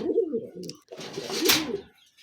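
Pigeons coo in a backyard loft, soft rounded throaty calls repeating in short bursts, fairly close, with a brief pause midway before a fuller, louder stretch of cooing and faint rustling.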